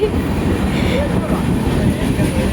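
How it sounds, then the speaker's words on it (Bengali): A passenger train rolls in at a platform with a loud steady rumble and low clatter, a voice briefly audible over it. "আমাদের ট্রেন চলে এসছে"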